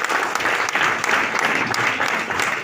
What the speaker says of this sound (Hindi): मुकेश जी के जोरदार तालियां होनी चाहिए